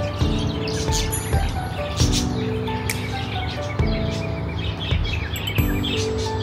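Birds chirp and tweet repeatedly at a relaxing hangout spot, with several bright calls close by over a steady low background hum.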